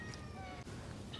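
A single cat meows faintly and briefly, a couple of soft cries heard at a distance over steady outdoor background noise on a street where a large pot of stuffed vegetables is being cooked.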